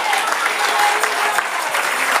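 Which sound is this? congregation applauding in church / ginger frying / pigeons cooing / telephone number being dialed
congregation applauding in church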